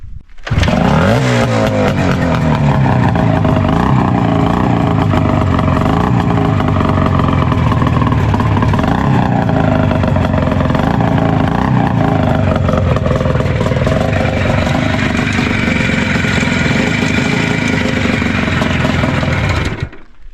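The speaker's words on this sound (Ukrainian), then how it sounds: "Іде зараз хазяїн покаже, як він заводиться." IZh Jupiter 4 two-stroke motorcycle engine catching and running steadily at close range, a loud, raspy buzzing drone with small rev fluctuations that holds for about twenty seconds before cutting off.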